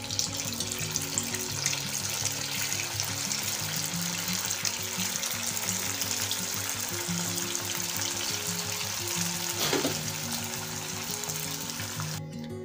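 Sabudana vadas spiced with red chili deep-fry in hot oil, giving a steady, close, dense sizzle that runs throughout with faint tonal music underneath.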